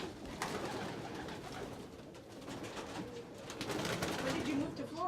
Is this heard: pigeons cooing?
yes